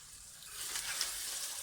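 Chicken karahi with black pepper sizzling on a high flame in a karahi, a steady broadband fry hiss that swells partway through and holds, close and with no one talking.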